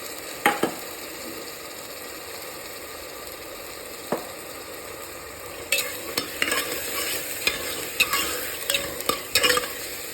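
Field beans added to a frying masala and stirred, with a faint background sizzle, a few isolated clicks early on, then a run of sharp scraping and tapping strokes near the end.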